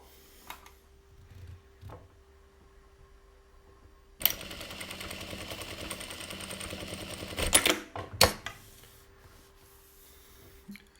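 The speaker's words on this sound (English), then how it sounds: "8 stitches forward, 8 stitches back, 4 times. And that's our bar tack function." A JACK industrial sewing machine runs a bar tack, a fast mechanical stitching rattle of several seconds after quiet handling, ending in a few sharp clunks, with quieter shuffling before and after.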